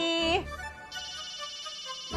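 A telephone ringtone trills loudly and close, breaking off briefly before a sustained electronic ring resumes and continues, with a voice heard at the start.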